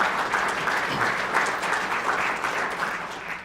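A hall audience applauds during the mayor's 2019 State of the City address in St. Joseph, a dense, even wash of clapping that holds steady and loud throughout.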